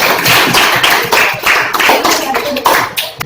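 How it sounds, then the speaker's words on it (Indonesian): Students in a classroom applaud a presenting group, a loud, close burst of many hands clapping in an uneven patter, with voices mixed in. "Oke, berikan tepuk tangan dulu untuk kelompok 1."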